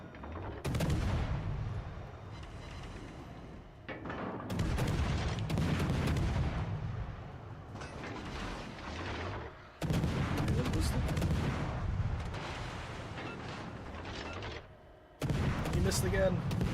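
Naval gunfire in World of Warships: Legends, repeated heavy salvos arriving in separate clusters with short quiet gaps between them, set under a steady game soundscape while a player talks.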